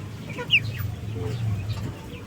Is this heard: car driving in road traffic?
no